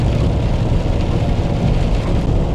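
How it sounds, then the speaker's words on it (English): A heavy rain squall drums on a moving vehicle near Chester, Montana, a loud, dense and unbroken wash of rain and road noise with no talk. "we've slowed down a little bit because it's raining like heck"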